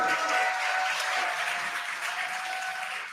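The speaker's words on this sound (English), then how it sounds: "You can hear the crowd here." Loud, continuous applause from a large crowd watching a returning space capsule descend under its drogue parachutes, a steady wash of clapping that holds for a few seconds before easing slightly.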